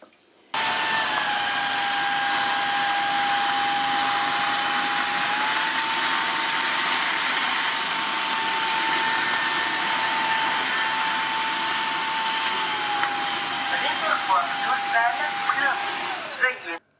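A Dreame H11 Max cordless wet-dry floor cleaner runs its self-cleaning cycle with a steady, loud whirring motor drone. The hum holds for most of the time, and gurgling and sputtering come near the end before it stops.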